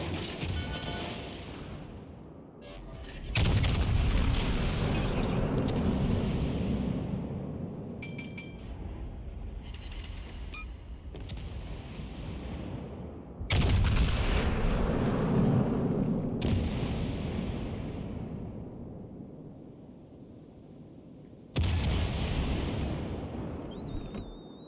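Naval guns of a warship in the World of Warships Legends game fire high-explosive shells in several heavy booming salvos, each a loud blast that rolls off into a long rumbling decay, with pauses between volleys.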